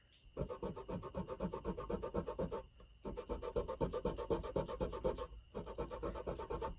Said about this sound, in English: Okay, so I just cleaned the 2 frets.